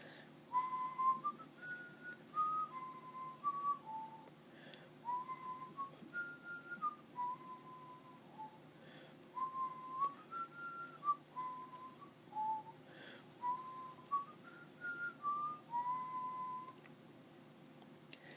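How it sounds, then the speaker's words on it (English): A single person whistles a wandering, tuneful melody in short phrases inside a quiet mine tunnel, soft and alone against faint low background hum. "Simon whistled to fill in the silence."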